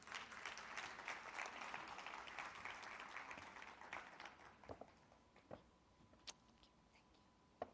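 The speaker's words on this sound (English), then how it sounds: "A round of applause." Audience applause at a national aviation gender summit, dense clapping for about four seconds that thins out into a few scattered, fading claps.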